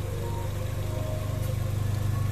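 A car engine with a dirty engine bay idles steadily before being switched off, a close, low, pulsing hum with an even mechanical throb and no talk.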